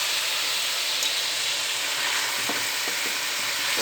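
Powdered spices and softened tomatoes frying with garlic-ginger in a pan for aloo moongre (potato with radish pods), a steady loud sizzle with scraping stir strokes near the end.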